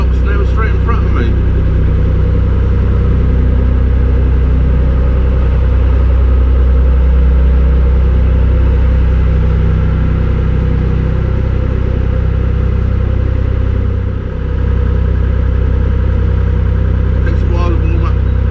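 A canal narrowboat engine warming up near a lock under an old rail bridge, a steady low diesel chug running throughout at close range, with someone talking over it.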